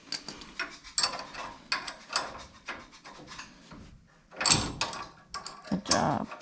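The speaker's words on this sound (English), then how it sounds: "Might need to use your ratchet." A ratchet or hand tool works to unthread a racecar rod end, with intermittent clicking, scraping and metallic rubbing in short bursts and pauses, close and moderately loud.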